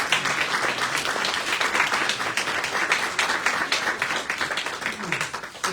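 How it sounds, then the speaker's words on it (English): Conference audience applauding panelists at a UN forum on Indigenous issues, a full, even round of clapping from a crowd that carries on throughout, with faint voices underneath. "So let's give a big round of applause to all of our first panelists."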